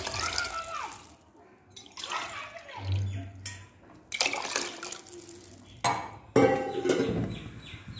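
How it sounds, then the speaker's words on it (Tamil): Water poured from a cup into a pressure cooker of soaked rice and vegetables for veg biryani, a few splashing bursts with clinks of the vessel, moderately close in a home kitchen. "நான் வந்து 5 கப் தண்ணி ஊத்துறேன்"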